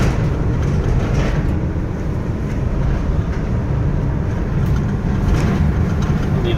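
Interior drone of a 2006 Ford E-250 three-quarter-ton work van driving, a steady low rumble of engine and road noise that holds even and fairly loud with no talking.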